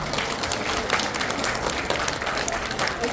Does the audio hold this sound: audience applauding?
yes